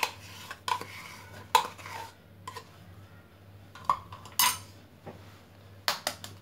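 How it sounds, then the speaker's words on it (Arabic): Yogurt, eggs and flour being mixed in a bowl for a quick pizza dough: scattered light clinks and scrapes of a utensil against the bowl, quiet and close, with pauses between strokes and no talking. "وغادي نخلط مع جوج ديال البيضات، وغادي نخلط هاد المكونات."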